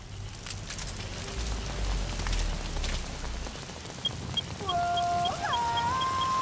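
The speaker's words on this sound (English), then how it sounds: "the rain and mist does make visibility a little low" Rain falls steadily in Metal Gear Solid V: The Phantom Pain, a constant soft hiss throughout, with gliding electronic tones joining near the end.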